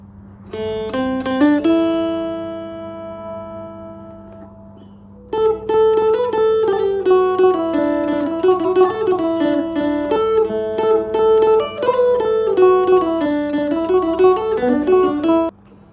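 A plucked guitar through an iRig effect set to sound like a Thai phin, with a bright, twangy, lute-like tone, plays a rapid run, lets a note ring out, then continues a quick melodic line.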